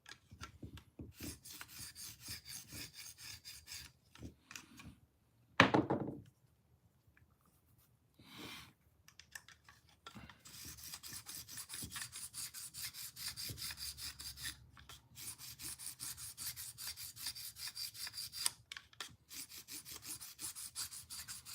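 A Case folding hunter knife from 1981 is drawn across a Smith's Easy Sharp sharpener in repeated rasping strokes, with a sharp clack partway through and then steady back-and-forth grinding continuing to the end.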